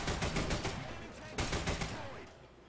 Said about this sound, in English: we have a pretty fast firing 8-round 20mm gun